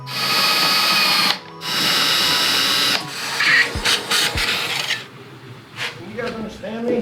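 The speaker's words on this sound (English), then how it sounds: "You just drill out the rivets." Power drill boring out rivets on a metal vent plate of a Subaru, harsh whining bursts that cut off and restart, followed by scraping and rattling handling noises up close.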